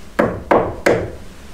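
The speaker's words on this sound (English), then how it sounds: "Big loud knock." Three loud, close knocks on wood inside an abandoned house in the woods, evenly spaced, each a sharp hit with a short ringing decay and no talking.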